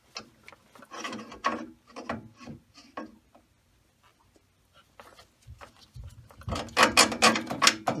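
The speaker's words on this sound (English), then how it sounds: "we're going to run this big long bolt into the rear frame of it" A long bolt is worked into the rear frame of a Sole elliptical, giving bursts of metallic rattling, clicking and scraping at close range, a quiet gap, then a louder ratchet-like clatter.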